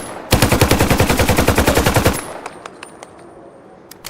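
An AKM rifle in Fallout 4 VR fires a rapid full-auto burst of about twenty loud, evenly spaced shots, then cuts off, leaving faint echoing tail and a few scattered clicks.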